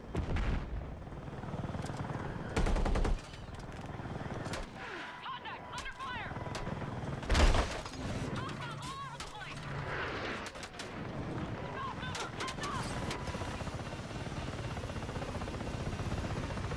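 Gunfire in a video game firefight: sharp shots and bursts, some close and loud, others softer, over a constant rumbling battle backdrop, with a voice talking at times.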